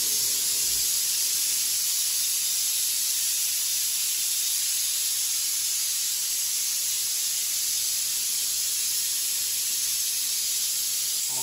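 A pressure cooker vents steam in a home kitchen, a loud, steady hiss that continues unbroken throughout with no other sounds.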